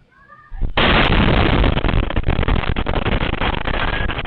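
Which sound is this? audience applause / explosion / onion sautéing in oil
explosion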